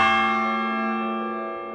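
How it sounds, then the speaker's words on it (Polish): A single stroke of a large church-style bell from a long-removed bell, sounded as an effect, ringing with a rich, sustained tone that slowly fades over almost two seconds. "czasami słychać bicie od dawna zdjętego dzwonu"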